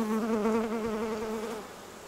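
Honey bees buzz steadily at an open hive during a colony transfer from a swarm trap, a close, continuous hum with wavering pitch that fades slightly toward the end.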